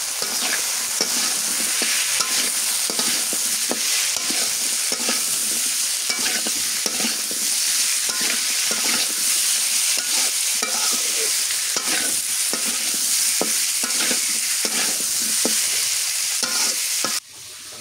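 Potatoes stir-fried with cooked-down spice paste in a pan in a village kitchen, a loud continuous sizzle punctuated by repeated scraping and stirring strokes, cutting out abruptly near the end.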